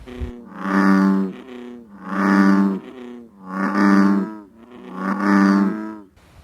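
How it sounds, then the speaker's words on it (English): Four deep, resonant, drawn-out calls from an American bullfrog sound close and loud, each a low droning moo-like note spaced about a second and a half apart. "American bullfrog."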